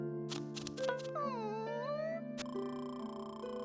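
An angry cat in the Rhythm Thief video game yowls with long, bending meows over a steady game music bed, the cries rising and falling before fading into sustained tones.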